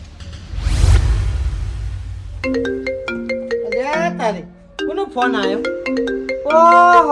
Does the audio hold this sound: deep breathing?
no